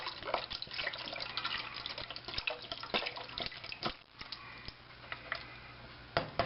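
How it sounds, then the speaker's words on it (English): Chicken stock poured from a box into a soup pot for creamy potato soup, a steady close liquid splashing and trickling with dripping and small clicks, running continuously with no talk. "So now I'm going to add some chicken stock."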